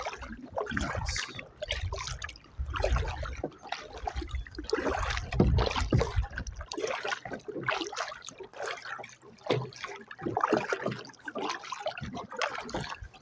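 A kayak with two people aboard is paddled across water, with splashing strokes and dripping, trickling water close by in an irregular rhythm, and a low rumble underneath for the first half.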